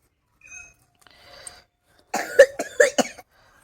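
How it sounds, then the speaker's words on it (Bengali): A few faint breathy sounds, then a burst of four or five harsh coughs close by in quick succession. "প্রচণ্ড কাশি হচ্ছে"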